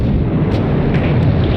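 An explosion blast at a dock gate during a WW2 commando raid, heard as a dense, loud, sustained low rumble that fills the whole moment, with no talk.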